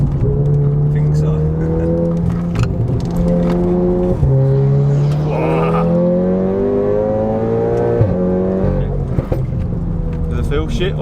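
A Seat Leon Cupra engine drones through a Nürburgring lap, a steady in-car tone climbing through gears with dips at shifts and braking, while people talk over it.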